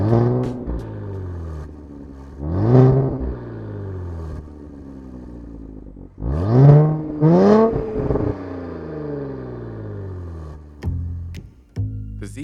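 2023 Nissan Z Performance with the factory sport exhaust revs in several loud, rising sweeps while driving, each pull ending in a falling note, with quiet gaps between.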